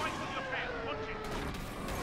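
Blaster gunfire in Star Wars Battlefront 2 on PS4, a quick run of sharp shots and mechanical clatter amid dense battle noise, fairly quiet and lasting about two seconds.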